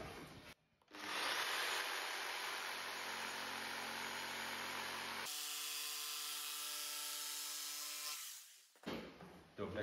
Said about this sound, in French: Deuxième école. La scie sauteuse.